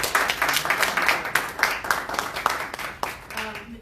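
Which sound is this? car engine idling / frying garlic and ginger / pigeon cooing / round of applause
round of applause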